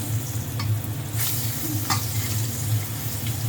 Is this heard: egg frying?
yes